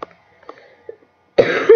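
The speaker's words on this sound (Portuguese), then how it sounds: "Desculpa por ter dado uma tossida." A single loud cough bursts out near the microphone after several faint murmurs, rough and wet with a second harsh push at the end, with no voice over it.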